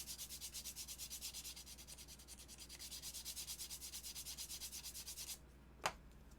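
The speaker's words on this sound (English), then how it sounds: "I'm actually going to hit this with the sanding block to start with" Rhythmic back-and-forth rubbing of a sanding block on a surface, steady strokes close by, ending with a single sharp knock.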